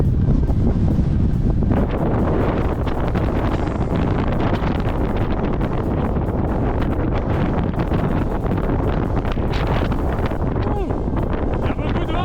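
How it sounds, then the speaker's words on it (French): Strong mountain wind roars continuously and close, buffeting the microphone with a loud, steady rumble for the whole stretch, with no voices heard. "Il y a beaucoup de vent."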